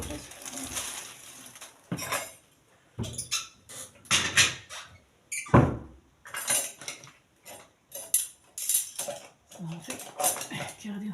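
A spoon washed in bleach water, irregular clinks and scrapes of metal against dishes in short bursts, with pigeons cooing and a voice speaking in between.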